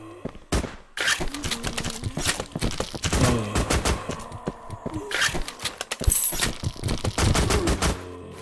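Machine gun fire in a Minecraft-style Call of Duty zombies game: dense, rapid bursts of shots crackling almost continuously, with brief pauses between volleys, loud and close.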